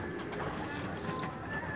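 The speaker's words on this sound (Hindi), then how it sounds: "डॉक्टर जमील साहब के घर का टेडी कबूतर भी आ गया जी।" A Teddy breed pigeon cooing at a pigeon keeper's gathering, soft low coos under a steady background murmur of outdoor noise, fairly faint and continuous.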